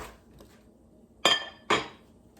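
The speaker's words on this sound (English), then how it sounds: "We are gonna pull out the dish from the oven." Two sharp clinks of a glass casserole dish of chicken, broccoli and rice being pulled from the oven and set down, close and fairly loud, half a second apart after a quiet lead-in.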